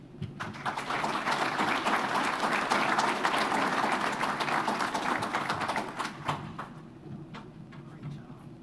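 Audience applause at an electric cooperative's annual meeting fills the room, dense and sustained for about six seconds before thinning into scattered claps and fading.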